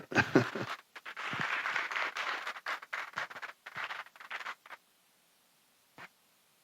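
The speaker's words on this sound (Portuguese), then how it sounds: "Uma salva de palmas para ele." Churchgoers at a grief-themed gathering applaud a couple with a fairly quiet round of clapping that comes in uneven bursts. It trails off into silence, and one last lone clap follows.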